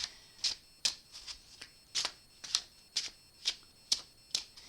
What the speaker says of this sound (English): We'll get some good shuffles in here